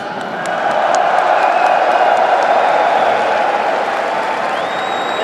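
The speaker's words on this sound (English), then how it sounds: "Antwerp! Make some noise for the NaVi legend, Edwin!" An arena crowd at the PGL Major Antwerp esports semi-final, NAVI vs ENCE, roars in loud, sustained cheering with whoops and whistles, filling the hall throughout.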